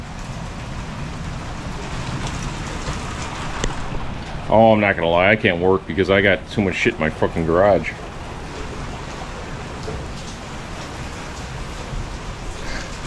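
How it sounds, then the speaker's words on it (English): Rain falls outside a garage as a steady, soft hiss that runs under the whole stretch, while someone speaks briefly partway through. "But now it's raining, unfortunately."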